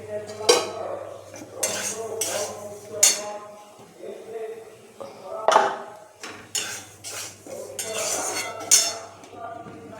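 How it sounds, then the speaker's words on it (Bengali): A metal spoon scrapes and clinks against a pan while semolina is stirred until reddish, giving repeated sharp clatters at an irregular rhythm over a faint sizzle, close and moderately loud, with no talking. "সুজিটা একটু হালকা করে লাল লাল করে নেড়ে নিই।"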